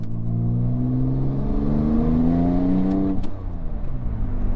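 A used Porsche 911 Turbo, race-modified, revs hard under full throttle, its engine note climbing steadily and loud before a brief dip at a gear change as it pulls on again.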